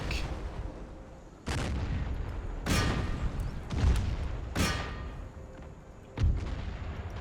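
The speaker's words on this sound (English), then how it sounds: "Oh, mortar." Mortar and artillery fire in the Empire strategy video game: six separate heavy booms spaced a second or two apart, each a sharp blast with a rolling tail over a steady battlefield rumble, no talk.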